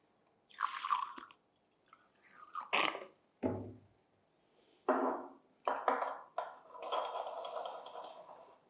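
Water is poured and rinsed over a conductivity electrode in a lab, coming in several separate splashy bursts with quiet gaps between, then a longer trickle at the end.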